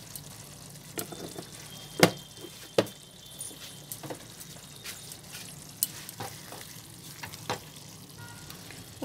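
Desi ghee poured over a Bengali-style potato and pointed gourd curry gives a low, soft sizzle, punctuated by a few sharp clinks and taps of a spoon against the pot, heard up close without speech.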